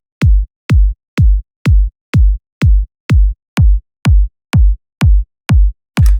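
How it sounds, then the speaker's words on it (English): A house kick drum with a layered click on top, struck about a dozen times at a steady four-on-the-floor pace, each hit a loud punchy thump with a sharp attack, played alone. "So actually, I added a little bit of a click on the exact same kick,"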